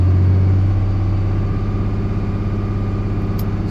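A car engine fitted with a mechanical piston-driven fuel pump revs up from a steady idle, the low drone holding loud and close with a continuous throbbing pulse and no talk over it.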